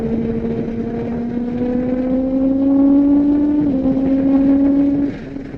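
A Kawasaki ZX-10R Gen6 sport motorcycle holds a steady, loud rev that climbs slowly before a quick shifter clicks it up into fifth gear, causing a brief dip in engine pitch before the revs settle and then drop off at the end.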